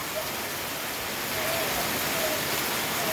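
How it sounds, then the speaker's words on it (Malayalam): Steady broadband hiss of rain falling, a constant even wash with no clear drops standing out, heard alone without talk. "മഴ പെയ്യുവാന്നോ?"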